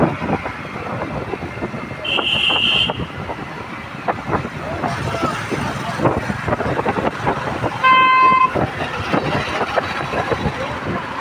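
Vehicle horns toot in a busy queue at a fuel pump: a short horn blast, then another a few seconds later, over constant engine rumble and crowd noise.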